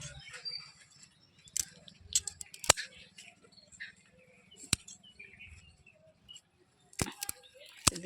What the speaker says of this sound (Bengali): এখান থেকেও কেটে দিচ্ছি, সব গাছগুলোই কেটে দিচ্ছি।